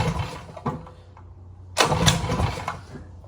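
A small DIY go-kart engine being pull-started, with sputtering cranking attempts and a short burst of rough engine noise close by, no one speaking.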